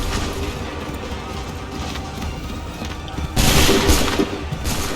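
Soldiers in Assassin's Creed III fire a volley: a loud, crackling musket burst erupts about two-thirds of the way through, over a steady din of battle ambience.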